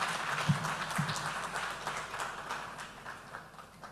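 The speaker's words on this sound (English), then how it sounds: "Another round of applause for Mr. Oluwaseun Faleye, please." Applause from an audience at a business lunch in Lagos, fairly faint scattered clapping that fades gradually over a few seconds.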